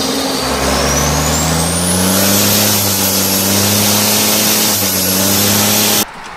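A food tanker truck's engine revs up to drive its unloading pump, a loud rising mechanical roar with a climbing whine that holds steady, then cuts off abruptly near the end.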